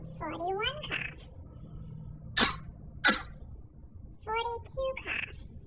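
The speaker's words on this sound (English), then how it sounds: "42 coughs." A few short, sharp coughs burst out between stretches of a voice, with the coughs spaced apart rather than in a run.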